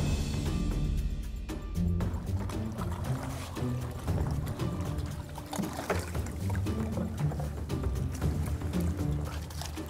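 Remote-controlled bait boat, a large feeder boat carrying groundbait, running steadily on open water with continuous broadband motor and water noise at a moderate level, no talk.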